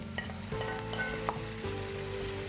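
Onion and garlic sauté in a pan with a steady close sizzle, broken by light stirring scrapes and occasional clinks of a utensil.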